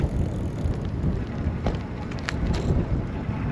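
Gusty wind buffets the microphone in a constant low rumble, with faint scattered crackles and no voices.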